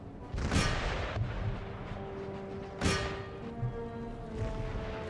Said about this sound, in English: let's retarget my artillery against the incoming